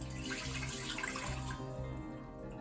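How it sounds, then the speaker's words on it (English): Water is poured from a cup into a cooker being readied for hard-boiled eggs, a close, steady splashing stream that eases off toward the end, with no talking. "We're going to add 1 cup of water."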